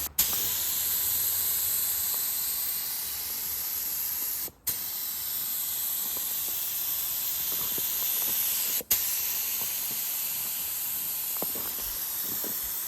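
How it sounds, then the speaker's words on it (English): Steady spray-gun hiss as primer is laid onto a truck bumper, continuous and close, broken by two brief pauses where the trigger releases, with no talking. "to get the inside of the bumper sprayed black now"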